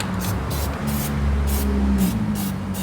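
Spray primer is applied to a fitted Toyota body part on a Lexus restoration, a steady close aerosol hiss running continuously, with a low hum beneath it.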